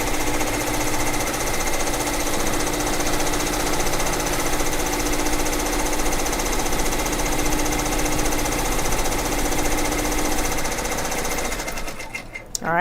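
Two embroidery machines stitching side by side in a head-to-head race, a loud, steady mechanical whir with a rapid needle rhythm and motor hum running continuously before stopping abruptly near the end.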